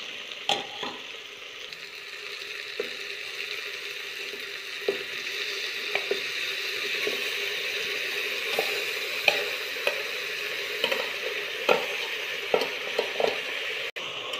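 Beef with masala fries in a pan, a steady close sizzle broken by scattered clinks and scrapes of a spoon mixing it, with a sharp knock near the end; nobody talks.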